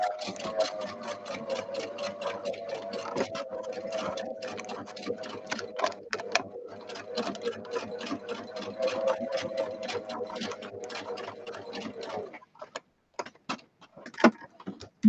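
A sewing machine stitches a patchwork lace book cover, running in a steady, rapid rhythm for about twelve seconds before stopping, followed by a few scattered clicks.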